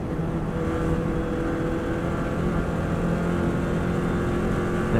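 A Subaru WRX STI engine drones steady and loud in 6th gear as the car drifts wide on the Isle of Man TT road course, a constant heavy roar from inside the car with no voices.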